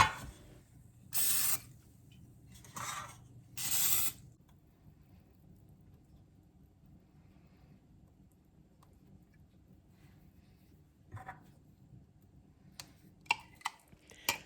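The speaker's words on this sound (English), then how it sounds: "spraying vegetable cooking spray onto them" Three short hissing bursts of vegetable cooking spray onto cake pans close by, then quiet with a few faint clicks and knocks toward the end.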